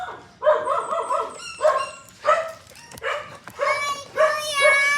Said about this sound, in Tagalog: Yung aso natin guys.